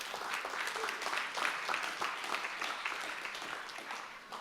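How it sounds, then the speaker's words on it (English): Steady audience applause at a performance marketing panel of a brand forum, a dense wash of many hands clapping that stays fairly even, fading slightly toward the end. "please welcome to the stage with a big applause"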